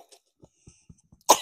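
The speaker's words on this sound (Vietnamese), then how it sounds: "anh ho gì đấy?" One person coughs once, a short sharp burst at close range. Faint clicks and small noises come before it in an otherwise quiet room.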